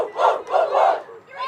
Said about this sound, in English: You can hear the Fall Creek girls cheering in the background.